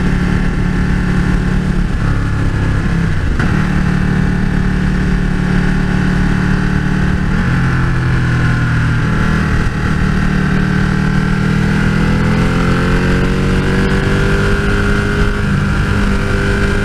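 A 2015 Ducati 1299S motorcycle engine roars continuously while riding, a loud, steady, close drone with rising and falling pitch as the rider works the throttle and shifts.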